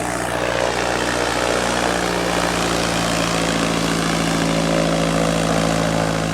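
A propeller airplane drones steadily and loudly in the Alaskan wilderness, a constant engine hum with a low propeller tone and no talk over it.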